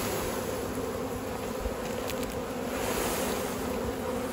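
Honeybees at a hive, with nurse bees shaken down in front of a bottom colony, make a dense, steady buzzing drone that stays close and even throughout.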